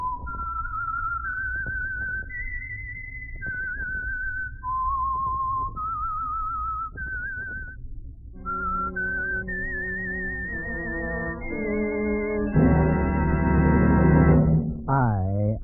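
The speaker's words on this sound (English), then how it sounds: "That whistle is your signal for the Signal Oil Program" A lone whistler carries the eerie theme tune of The Whistler radio mystery show, a slow gliding melody of sustained notes that rises and falls. Orchestral accompaniment then joins and swells into a full, loud close.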